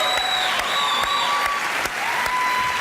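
A late-night political talk show studio audience applauds loudly and steadily, with sharp whistles and cheers rising above the dense, close clapping throughout.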